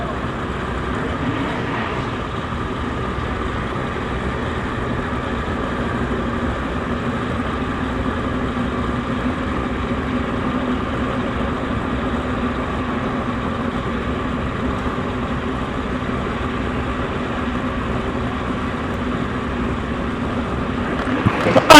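A big Kawasaki drag racing motorcycle sits on its rev limiter in the lane at a Mancup drag race, a loud, steady engine drone that holds for the whole stretch and swells briefly at the very end.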